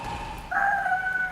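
A huge bird-like boss in the video game Bloodborne lets out a shrill, rising crowing screech that holds for most of a second over a low rumbling game background, with no voices.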